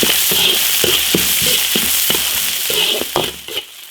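Ginger, garlic, Sichuan pepper and dried chilies stir-fried in a wok, with loud steady sizzling broken by rhythmic scraping strokes of the spatula before the sound drops away.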